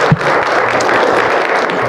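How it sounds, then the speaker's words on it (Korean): A church congregation applauds, giving a dense, steady patter of many hands that stays even and fairly close for the whole short stretch. "박수 한번 쳤으면 좋겠습니다"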